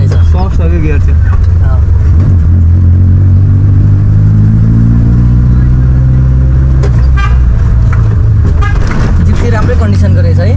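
A 1985 Suzuki Gypsy jeep drives with a steady low engine drone and road rumble throughout, loud and close, while people talk over it inside the vehicle.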